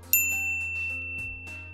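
A single bright notification bell ding strikes sharply and rings out with a sustained shimmering tone over a low steady hum.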